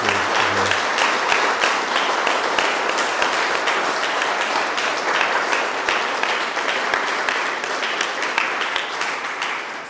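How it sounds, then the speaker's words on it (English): An audience at a Victory Day commemoration gives a sustained round of applause, with dense, even clapping filling the room that continues throughout and eases slightly toward the end. "So please give him a round of applause."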